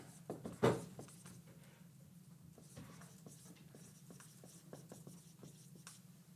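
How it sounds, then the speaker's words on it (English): Pen or marker writing by hand during a genetics lecture, close scratchy strokes and taps in short irregular bursts over a low steady room hum, with a louder knock near the start. "make sure I write this correctly"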